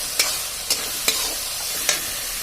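Tomato masala frying in a pan gives a steady sizzle, and four sharp scrapes of a spoon or spatula land at roughly even intervals. Close and fairly loud, with no talking.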